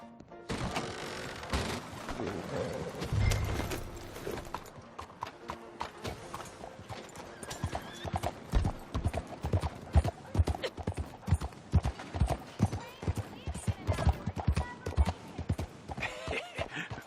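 Horse hooves clip-clopping in a steady galloping rhythm while riding in Red Dead Redemption 2, close and prominent over game ambience, with brief voices and a louder burst early on.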